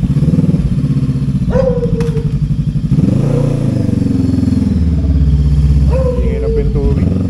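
A neglected Honda C5 motorcycle engine idles and revs up close, chugging steadily with a few rising throttle bursts and rattling noises, while people talk nearby over the noise.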